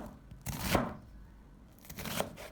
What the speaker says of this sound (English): Then continue cutting it into diced pieces.